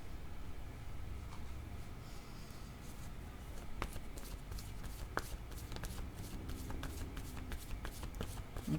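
Tarot cards shuffled and drawn by hand close up, a soft continuous riffle and slide with occasional crisp snaps of cards being laid down.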